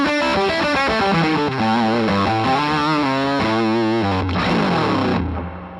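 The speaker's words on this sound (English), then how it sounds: "So we have this Big Muff fuzz pedal going into our 2-rock." Electric guitar through an Electro-Harmonix Big Muff fuzz pedal into a Two-Rock amp, playing a thick, saturated run of sustained notes and chords, loud and up close, ending in a ringing decay, with no talking.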